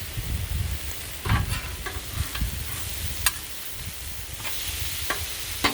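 Potatoes and kielbasa sizzling on a flat griddle with cabbage, a steady close hiss of frying broken by scattered scraping and stirring clicks from a spatula.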